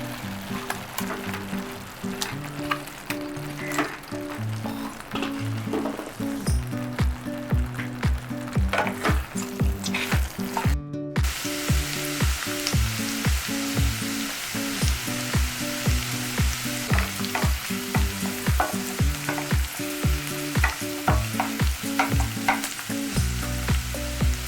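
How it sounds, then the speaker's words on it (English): Prawns cooking in a masala curry in a pan, with a steady close sizzle, a bubbling crackle and repeated scraping stir strokes running throughout with no break. No talking. "When the masala is ready, add in the prawns and lastly cook it for 2 to 3 minutes until they are soft and tender."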